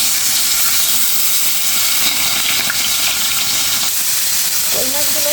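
Whole koi fish rubbed with turmeric and salt fry in hot oil, giving a loud, constant hiss that stays close and unbroken throughout.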